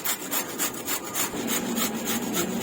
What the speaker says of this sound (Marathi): आता आपण ही काकडी किसून घेऊया